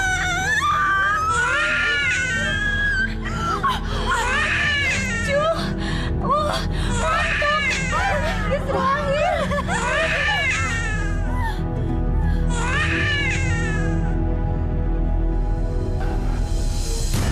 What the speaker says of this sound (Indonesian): Saya seperti mendengar suara tangisan.